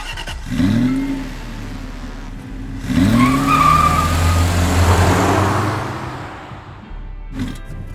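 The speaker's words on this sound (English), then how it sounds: "The exhaust sounds pretty awesome with the pops and the snaps once you put it into sport mode" A Ford Focus RS engine revs hard twice in sport mode, rising and falling, followed by a long roaring pass with crackling exhaust pops, then a brief burst near the end.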